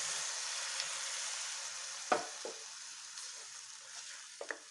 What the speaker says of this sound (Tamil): ஒரு சின்ன டம்ளர் அளவுக்கு தண்ணி ஊற்றிருக்குறேங்க